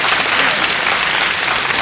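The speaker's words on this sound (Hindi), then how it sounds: "डेयरी फार्म टीम जोरदार तालियां" Loud, dense clapping from a crowd at an Andaman tribal heritage celebration, honouring the dairy farm football team as its captain comes forward; sustained and even, close and full.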